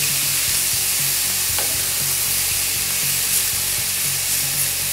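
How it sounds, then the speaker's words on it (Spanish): Onion and bacon frying in a skillet give a steady, close sizzle and crackle throughout, with light stirring clatter and scraping, no voices. "Vamos a dejar que la cebolla suelte todos sus jugos, la tocineta toda su grasa"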